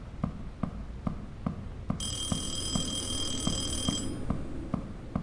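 A telephone rings with a shrill electronic trill that starts about two seconds in and holds for two seconds, over a steady ticking pulse in the background; no one speaks.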